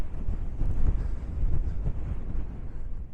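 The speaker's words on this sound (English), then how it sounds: "Very windy this morning" Strong wind buffets the microphone at a quiet prairie resting spot in southern Saskatchewan, loud low gusting rumbles rising and falling, no speech.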